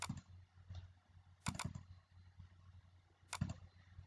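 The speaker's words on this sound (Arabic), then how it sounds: "كدير دوبل كليك" Mouse clicks in Adobe Illustrator: faint, sharp clicks that come in quick pairs, spaced a couple of seconds apart over a steady low fan hum.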